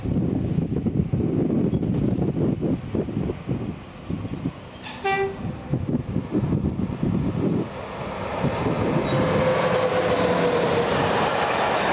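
An electric locomotive rolls past at Bruchsal, making a steady, loud rumble with wind buffeting the microphone and a short horn toot near the middle.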